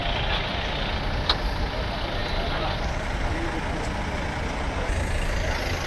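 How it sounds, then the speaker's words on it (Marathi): Trucks and other vehicles rumble into a busy vegetable and tomato market, a steady dense traffic drone with scattered engine noise and background crowd chatter throughout. "पान मंडीच जरा गर्दी झाली गाड्या वगैरे येत आहेत"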